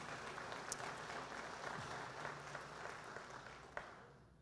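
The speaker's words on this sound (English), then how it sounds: "Give him a big round of applause." Sustained audience applause for a drummer at a gospel celebration concert, a steady wash of clapping from a crowd that holds evenly throughout.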